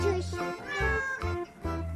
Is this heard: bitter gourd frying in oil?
no